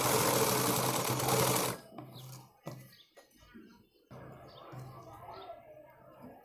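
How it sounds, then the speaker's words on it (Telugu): Sewing machine stitching net cloth, a loud steady whir for about two seconds, then stopping, followed by quieter handling sounds and faint background noise. "ఈ నెట్ క్లాత్తోని చాలా ఈజీ ప్రాసెస్లో కుట్టుకునేది మనం చూస్తున్నామండి ఈరోజు వీడియోలో"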